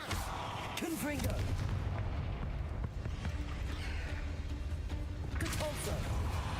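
A Confringo fire-blast spell in a Hogwarts wizarding video game: a rumbling explosive boom amid game combat noise, with short vocal calls and a second burst later, fairly distant and muted.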